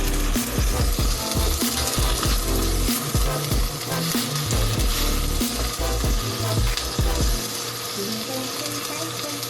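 Butter sizzles and fries steadily in a pan while a utensil stirs and scrapes through it, with occasional clinks over a continuous crackling hiss.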